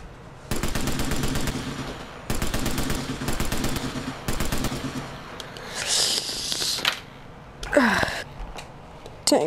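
Gunfire in the VR shooter Sniper Elite VR: several loud, rapid automatic bursts, each about a second long with brief gaps between. Hissing, clattering game effects follow as the firing stops.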